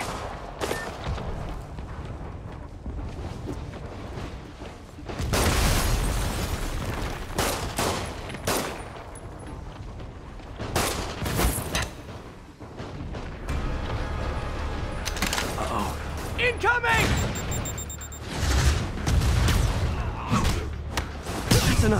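Rocket blasts in Marvel's Spider-Man come as bursts of booming explosions and rattling gunfire-like impacts, with heavy thuds and mechanical clatter. The loud volleys return repeatedly over about twenty seconds, with quieter gaps between them.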